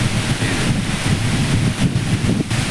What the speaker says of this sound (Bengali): এখানে বাতাস, এত বাতাস বলার মতো না, খুব বাতাস, খুব।